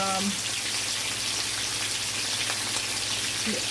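Fish fries in oil in a pot for brown stewed fish, a continuous crackling sizzle like rain on a surface, close and fairly loud from start to finish.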